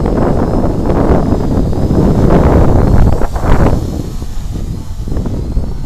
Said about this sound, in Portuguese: Tá ventando pra caramba, como vocês podem ver aqui